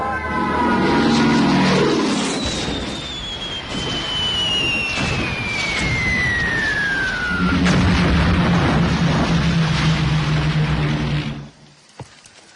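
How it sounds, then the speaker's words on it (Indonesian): Dutch military aircraft fly over during an air attack on Kediri: a loud, continuous roar with a steadily descending whine, heavy rumbling underneath and a low droning engine tone later, cutting off abruptly near the end. "Kediri sudah dilululantakkan oleh pesawat-pesawat Belanda."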